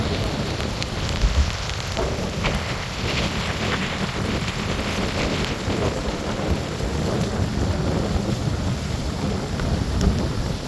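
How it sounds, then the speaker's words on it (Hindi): Rain falls steadily through a thunderstorm by a riverside, a dense even patter with gusty wind noise and low rumbling underneath, unbroken throughout with no voices. "हल्की हल्की बारिश हो रही है"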